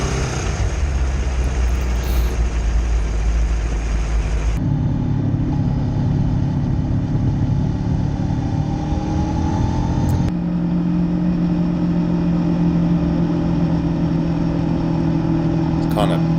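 An Aprilia Tuono V4 1100 Factory motorcycle runs on the road with a steady engine drone and wind roar in three sections, its pitch shifting between them, and talk sounds over it.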